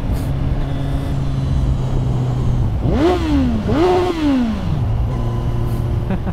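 A new 1000cc motorcycle idles, then revs sharply twice in quick succession, each rise and fall clear and close, before settling back to a steady idle.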